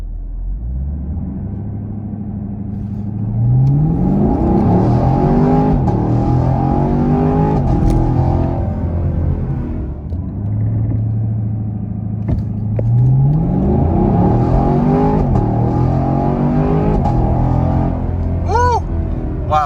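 A 2021 Chevrolet Camaro LT1 on sticky Firestone tires launches hard twice in sport mode with traction control on, its V8 note climbing through rising gear pulls, loud and close, with a brief lull between the runs.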